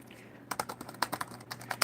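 Quick, light clicking of keys on a ThinkPad T61 laptop keyboard that is missing a key: about a dozen crisp keystrokes in an uneven burst, close-up, with a faint background hum.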